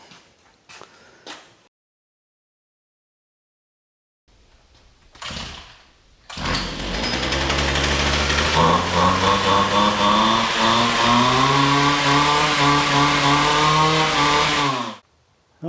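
A Stihl chainsaw with a freshly cleaned carburetor: a few brief rough bursts from starting attempts, then the engine catches and runs loud and steady at high revs for about eight seconds before cutting off abruptly.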